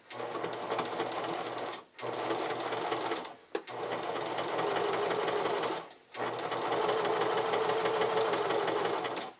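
Sewing machine runs steadily while stitching a camisole, a continuous rapid mechanical whir in four long runs separated by brief pauses, close and alone with no voices.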